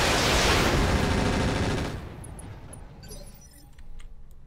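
Sustained heavy gunfire from a tank battle war game set in Lhasa, a dense loud burst for about two seconds, then fading into quieter scattered rumbles and distant pops.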